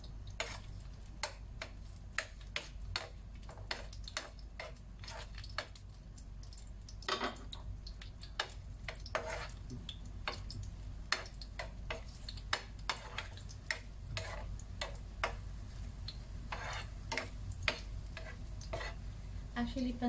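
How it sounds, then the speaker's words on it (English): Kikiam frying in a pan for pancit, a quiet steady sizzle broken by frequent sharp ticks and crackles as the pieces are moved about, with faint background sound. "we're just gonna fry first our kikiam a little bit"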